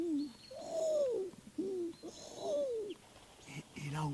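Wood pigeons coo around a netting hunting blind, giving soft repeated phrases that rise and fall in a steady rhythm. The calls are faint and fairly distant, with light background noise.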